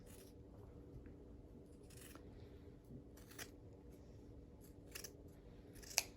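Fabric scissors cut fabric strips for a rope toy, a few quiet, separate snips spaced about a second apart over a low room hum, with no talking.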